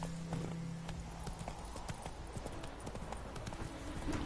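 Hooves of a horse in Witcher 3: Wild Hunt beat a fast, rhythmic clip-clop as the mount follows a trail on its own, steady and close, with a faint creak or snort near the start and no talk.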